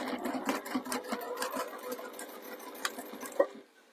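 A sewing machine stitches a pie crust cushion with a steady whirring run of needle strokes, close and moderately loud, before stopping abruptly near the end.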